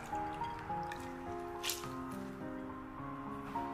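Washed winter melon pieces lifted out of a bowl of clean water, with soft drips, squishes and small splashes close by, quiet and intermittent.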